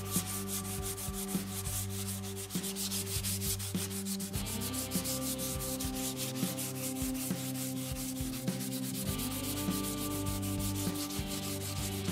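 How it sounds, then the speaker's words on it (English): Steady rhythmic scratching of folded 220-grit sandpaper on a wooden guitar neck, quick strokes repeating close by, with a low droning hum in the background. "We're just going to be using a folded up piece of 220 grit sandpaper."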